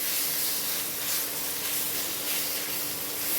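Coriander leaves and eggplant frying in hot oil for a Bangladeshi begun varta give off a steady, even hiss of sizzling with no pauses, heard alone without any voices.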